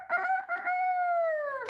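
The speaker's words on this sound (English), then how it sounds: "It's a rooster." A rooster gives a single drawn-out crow, loud and close, holding a steady tone before breaking off abruptly at the end.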